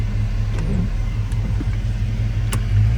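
A 1967 Chevrolet Impala SS convertible cruises down the road, its engine a loud, steady, low rumble from inside the car, with a few faint clicks and no talking.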